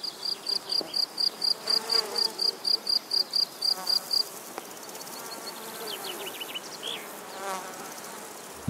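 Insects buzzing in a wild meadow near a hedge: a steady, rapidly pulsing buzz for the first half, then fainter, wavering buzzes and a few chirps closer in, with no voices.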